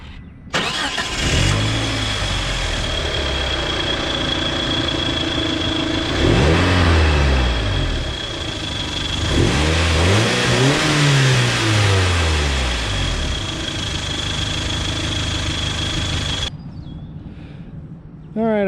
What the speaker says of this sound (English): we're gonna start her up here from this here angle